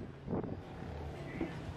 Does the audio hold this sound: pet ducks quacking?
no